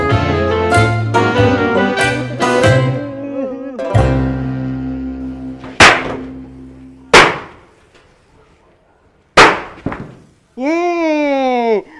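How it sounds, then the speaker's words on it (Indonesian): Firecrackers go off in three sharp, loud bangs spaced a second or two apart, each ringing out briefly, after a stretch of talking and other noise. "Mantap kali mercon gua"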